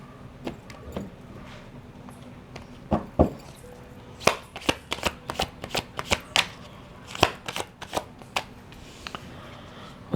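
Oracle cards being shuffled during a spiritual tarot-style reading, a run of crisp riffling snaps and soft card slaps in irregular bursts, close and fairly quiet with no talking.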